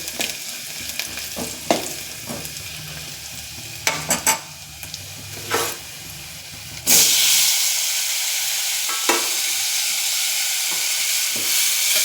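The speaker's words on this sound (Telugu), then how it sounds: "టమాటా ముక్కలు వేసానండి కలబెడుతున్నాను బాగా కలపాలి" Tomato and onion pieces with turmeric fry in a pan, a steady hiss and sizzle running throughout, with scraping stirs early on before the sizzle swells louder and settles into a constant steamy frying noise.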